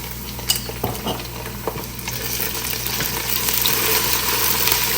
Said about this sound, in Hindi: थोड़ा सा करेंगे फ्राई